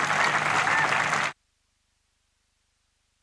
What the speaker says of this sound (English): She should absolutely take in this applause from this crowd